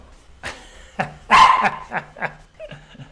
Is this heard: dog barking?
yes